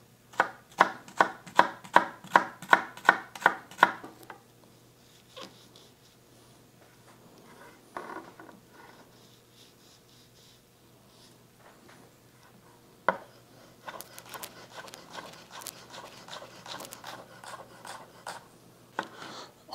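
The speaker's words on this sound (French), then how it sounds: "on va couper nos cornichons sucrés en brunoise" A knife chops sweet pickles into a fine brunoise on a cutting board, starting with about ten quick, evenly spaced crisp taps, then softer scattered cuts and scraping before a final flurry of chopping.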